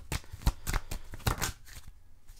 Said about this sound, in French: Et on va chercher une dernière carte.